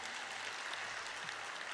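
Applause at a stock exchange listing ceremony at the NSE, a steady broadband wash of clapping from a gathered audience, fairly faint and even throughout with no talk over it.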